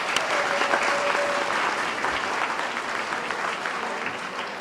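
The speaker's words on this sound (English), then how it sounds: "Give them a round of applause." An audience at a school Veterans Day event applauds a band and choir, a steady, dense wash of clapping that holds loud and even throughout, with a little crowd murmur underneath.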